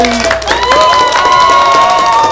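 Children and family members at a kids' playgroup pot-painting activity clap and cheer together in a bright, close burst of hands and excited voices that carries on without a break.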